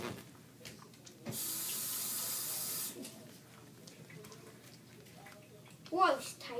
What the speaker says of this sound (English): I need to go wash my hands.